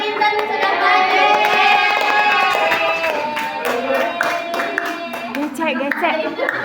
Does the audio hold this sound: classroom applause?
yes